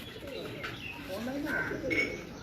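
A prized show pigeon at a Lahore loft gives soft low coos, faint and somewhat distant, with a few chirps and quiet room noise around them.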